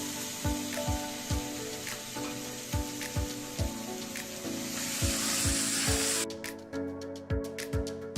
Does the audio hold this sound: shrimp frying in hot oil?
yes